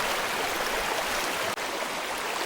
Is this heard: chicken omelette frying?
no